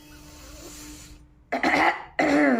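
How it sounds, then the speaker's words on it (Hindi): Two loud, harsh coughs close to the mic, set off by eating a very hot chili pepper, following a quieter stretch of low breathing. "ये खांसी जरूर करवा रहे हैं मुझे।"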